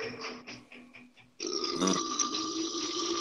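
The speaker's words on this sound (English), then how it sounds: "This is World Burping Championships here." Loud, sustained burps from a burping championship contest, a softer gurgling belch leading into a long, rasping one that carries on for nearly two seconds, heard close and clear over faint background noise.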